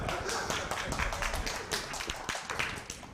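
Audience clapping at a lively church-style gathering, a quick run of dense handclaps heard from a modest distance, with some talk mixed in.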